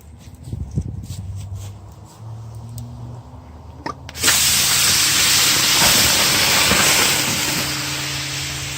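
Steam bursts out of a burning brash fire tornado in an allotment cycloburner. After a few quiet seconds with small crackles, a loud, steady, close hiss starts suddenly and continues to the end.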